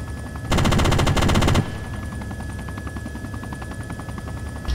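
A helicopter gun fires a sustained, loud, rapid burst in the Arma 2 video game, then cuts off, leaving the steady drone of the helicopter's rotors and engine.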